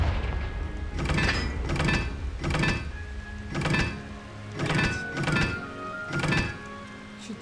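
Confringo fire spell blasts in Hogwarts Legacy, a series of about seven heavy booming impacts spaced roughly a second apart, each a sharp burst with a rumbling tail, loud and close with no talking.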